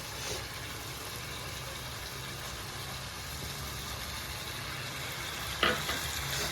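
Fish frying in a pan with coriander leaves, a steady close sizzle and hiss running throughout, with a brief clink near the end.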